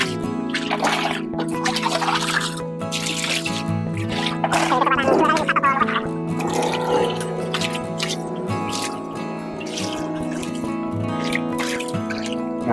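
Fungus-infected catfish are set into a tub of medicated water, with splashing, gurgling and dripping close by over steady background music.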